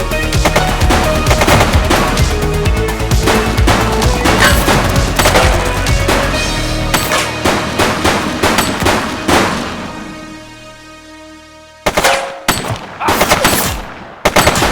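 A suspect fires a long, loud barrage of automatic gunfire in the cop sandbox video game The Precinct. The shots rattle densely, taper into a decaying echo, then resume in short sharp bursts.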